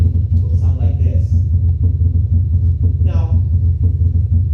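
A sonification of a larger red giant star's oscillations: a dense, low rumbling drone fills the whole stretch, noisy and steady, with a couple of faint higher warbles passing over it.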